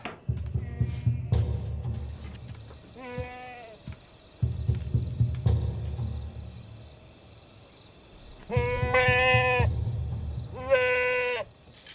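Goats in a livestock pen give several loud, quavering bleats, some overlapping, with quiet gaps and a low hum between the calls.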